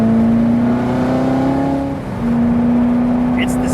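Loud, close engine drone from a Chevrolet Corvette Z06 accelerating, a steady rising pitch that dips briefly at a gear change and then pulls hard again.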